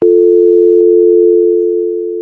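Telephone dial tone, a loud, steady continuous tone from start to finish, sitting close and alone and fading slightly near the end.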